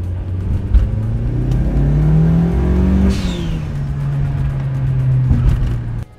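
A turbocharged car on a boost control test run with a GFB G-Force III controller accelerates hard, its loud engine note climbing steadily through the revs before a shift, then pulling again until it cuts off abruptly.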